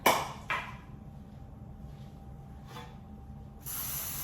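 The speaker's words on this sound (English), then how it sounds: "Just spray them all over." Short hissing bursts from an aerosol can of cooking spray onto bread pans, one at the start, another around half a second, a fainter one later, then a steadier spray at the end.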